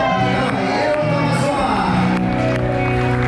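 Concert crowd at Martini Plaza in the Netherlands during a band's show, with sustained applause and cheering throughout, loud and dense, mixed with shouts and a musical drone underneath.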